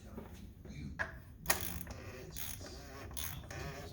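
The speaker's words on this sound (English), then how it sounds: "I'll grab our wrench" A ratchet wrench works on the oil filter housing of a 2004 BMW 325xi, making quiet rhythmic clicking and creaking strokes with a couple of sharper ticks, close and faint, with no talking.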